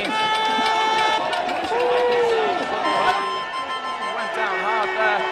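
Spectators roar and cheer at a fourcross mountain bike race as riders drop into a wooden section, a dense, sustained crowd din with whistle-like tones and busy babble running throughout.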